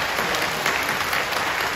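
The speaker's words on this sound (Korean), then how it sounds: "그래도 뜨겁게 박수로 환영해 주시면" A church congregation applauds warmly to welcome newcomers, a dense, steady wash of many hands clapping together throughout.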